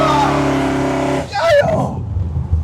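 A big-block engine in a 1988 Oldsmobile Cutlass runs loud and close with a deep harmonic drone, then revs sharply and rumbles at idle.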